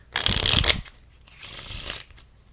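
Two quick riffle shuffles of playing cards, each a dense fluttering burst of card flicks, the first louder and longer, with a short pause between.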